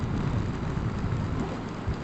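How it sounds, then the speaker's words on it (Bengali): Rain falls steadily on a soaked road during an extreme ride, a dense, even hiss that stays loud and unbroken the whole way through with no voices. "বৃষ্টি হচ্ছে"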